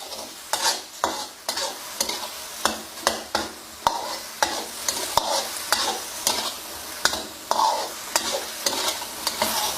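Chicken stir-fries in a hot pan with light soy sauce and a little sweet dark soy sauce, with steady rhythmic spatula strokes scraping over a continuous sizzle and no talking.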